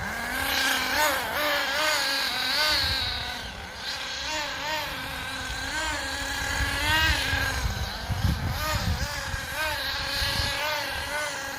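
An HPI Firestorm 10T RC truck driving, its small engine revving up and down in wavering whines that rise and fall repeatedly, with some loose rumbling and scrabbling underneath.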